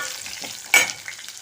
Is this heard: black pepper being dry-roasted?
yes